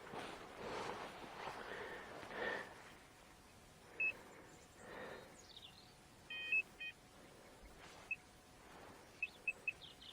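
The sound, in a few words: metal detector slow beep over a buried target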